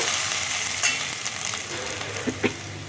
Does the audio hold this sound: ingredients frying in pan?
yes